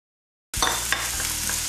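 Chopped dry onion sautéing in a pan over medium heat, a steady close sizzle and frying hiss that starts abruptly and runs on, with a few stirring scrapes.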